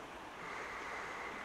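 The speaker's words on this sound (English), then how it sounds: "the river's actually burst its banks here" Floodwater of the River Esk rushing over its burst banks between Lealholm and Danby in the North York Moors during Storm Ciaran, a steady, loud broadband roar of churning water with wind noise, continuous and unbroken.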